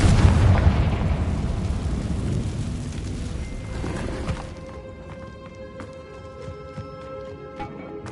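A Confringo fire-blast spell in Hogwarts Legacy bursts with a loud rumbling explosion that rolls off into a fading crackle, followed by scattered light clicks and chimes.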